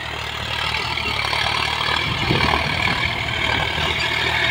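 A John Deere 5105 tractor pulls a cultivator through a field while ploughing, its diesel engine giving a steady, close, rumbling drone with slight swells in load, heard without speech.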